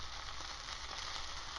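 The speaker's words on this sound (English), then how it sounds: "we'll sear the fat on the edges of the steak" Ribeye steak fat edges searing in a hot pan alongside bacon, a steady dense sizzle and crackle holding even and fairly close throughout, with no voices.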